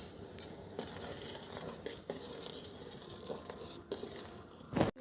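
A spoon stirs oats cooking in water in a pan for masala oats, giving faint, close scraping and clinking of metal against the pan, with a louder knock near the end.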